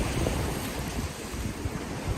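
Continuous rushing surf and choppy waves in a tropical storm at Deltaville, Virginia, with steady wind buffeting the microphone, loud and close throughout.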